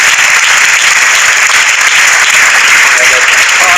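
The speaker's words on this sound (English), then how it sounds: "Give yourselves a round of applause." A seminar audience claps in steady, dense applause, loud and sustained throughout, filling the room without pause.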